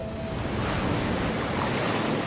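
Waves washing onto a beach shore, a loud continuous roar of surf with wind noise, close and steady, no talk.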